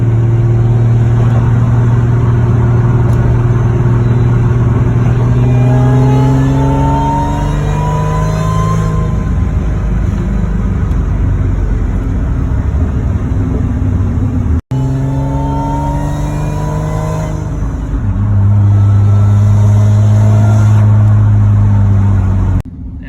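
A Ford Thunderbird SC on lowering springs accelerates hard and drives on, engine revving up through rising gear sweeps, dropping at a shift and pulling again, loud and close with no talk.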